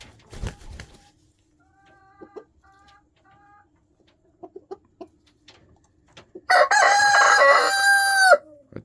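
A rooster named Ernie gives one loud, drawn-out crow near the end. It follows a few soft clucks and quiet chirps, with scattered faint knocks and rustles around a farm coop.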